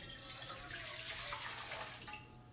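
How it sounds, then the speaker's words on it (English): Two cups of water poured into a container for an Herbalife pie, making a steady, close rushing splash that tapers off slightly at the end. "So I'm just going to dump the water in here like this."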